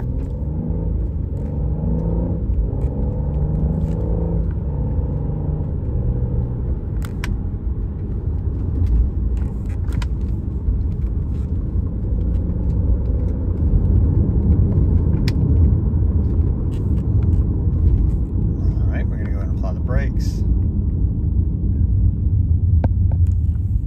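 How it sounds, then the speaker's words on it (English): A 2015 BMW 535i on a test drive: steady low engine hum and road rumble throughout, with a slight rise in throbbing drive noise partway through and no talking. "we're gonna go ahead and take it on a quick test drive"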